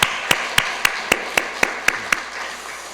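A church congregation claps in unison to give thanks after the church's kimchi-making, about nine sharp, evenly spaced claps that stop abruptly, leaving quiet room tone.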